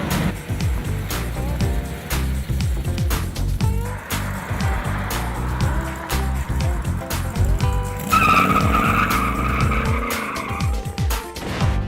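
A loud street rod engine roars and accelerates with rising gear pulls and chattering bursts at a car show in Kansas, ending in a screeching whine of tires near the close.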